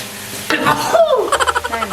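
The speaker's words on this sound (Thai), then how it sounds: "เริ่มเอาหมูลงมาผัดรวมด้วยเลยนะคะ" Pork being stir-fried with chili in a hot pan, with a sudden loud sizzle as the meat goes in, followed by rhythmic scraping and stirring strokes close up.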